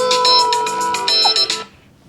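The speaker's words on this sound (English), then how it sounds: "That was my alarm." A phone alarm rings loud and near, a rapid series of bright pulsed electronic tones that repeats for about a second and a half before cutting off abruptly.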